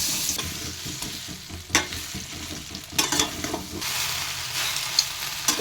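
Chilli and radhuni seeds sizzle in hot oil for tempering an Indian plum pickle, a steady frying hiss broken by sharp spatters and stirring scrapes.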